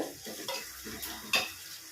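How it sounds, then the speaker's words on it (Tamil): Onions sautéing in a pan for kara kuzhambu, a soft close sizzle broken by a few light scrapes and clinks of a spoon against the pan, with no talk. "வெங்காயம் நல்லா வதங்கி நல்லா வருது"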